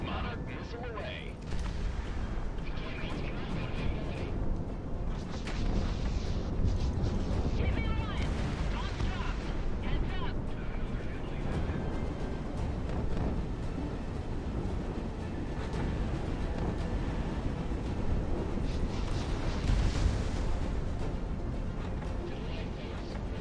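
Missile launch and explosions in the combat flight game Project Wingman, rumbling blasts and booms layered over steady jet and combat noise throughout, with someone talking over parts of it.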